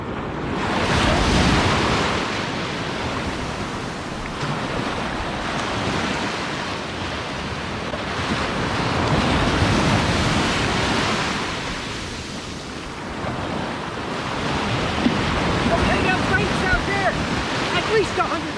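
Ocean waves break along a beach near a sandbar where surf fishing is under way. The loud, hissing surf swells and fades in slow surges, with a low rumble underneath.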